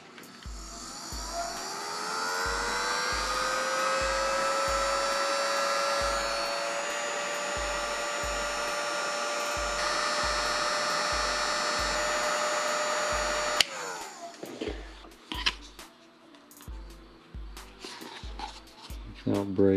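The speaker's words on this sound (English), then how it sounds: "put it on there without breaking it with this heat gun again" A heat gun blows hot air as a loud, steady whine and rush that holds for about fourteen seconds, then cuts off into clattering handling noises.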